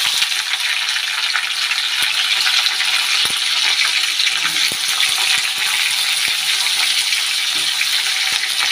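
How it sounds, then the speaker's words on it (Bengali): Chopped onion frying in an iron wok over black cumin seeds for a fish curry: a loud, steady hiss of oil that runs throughout, broken by a few faint clicks and taps, with no voices. "পেঁয়াজটা একটু হালকা করে ভেজে নেব"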